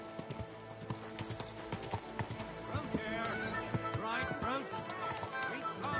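Rhythmic clip-clop of horse hooves with a whinny in the video game Kingdom Come: Deliverance II, set against music and people talking.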